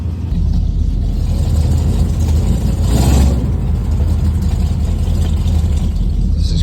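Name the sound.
old pickup truck engine idling after starting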